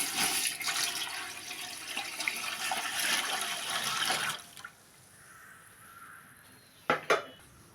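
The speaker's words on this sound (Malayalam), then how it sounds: "നമുക്കതിൽ ആവശ്യത്തിന് വെള്ളം വീത്തി കൊടുക്കാം" Water pours into a biryani cooking pot as a steady splashing rush for about four seconds, then stops, followed by faint kitchen background and two brief clanks near the end.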